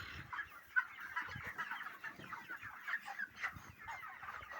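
A crowded flock of broiler chickens on a poultry farm in hot weather keeps up a dense, continuous chorus of clucks and murmurs, close and fairly steady, with no talking over it.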